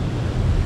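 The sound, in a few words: ocean waves breaking on the shore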